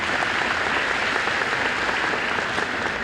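A graduation ceremony crowd claps in a thick, sustained wash of applause, loud and even throughout with no voices over it.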